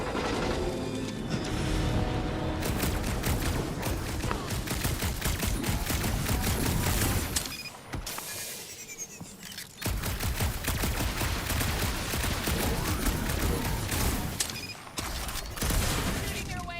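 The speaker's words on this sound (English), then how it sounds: "Shooting your way out of every problem again, Peter?" Star-Lord's blaster gunfire in the Guardians of the Galaxy game, rapid bursts of shots and mechanical clatter filling the scene, with characters talking over the action and a brief lull partway through.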